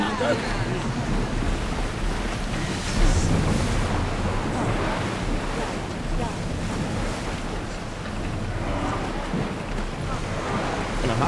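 A sailing ship ploughs through ocean waves in Assassin's Creed Odyssey, with a loud, steady wash of surf and gusting wind that swells briefly partway through, filling the whole stretch without a break.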